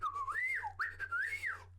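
A person whistles a warbling, swooping melody imitating the R2-D2 droid from Star Wars, rising and falling in two close phrases over a steady low hum, with no talking.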